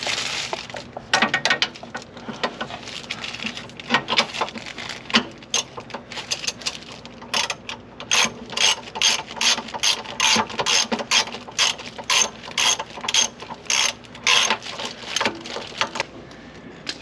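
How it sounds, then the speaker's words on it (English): An impact wrench works on the shock bolts of a 2007 Jeep JK during a Fox replacement shock install. It gives rapid rattling bursts in repeated short runs, close and fairly loud. "Impact wrench."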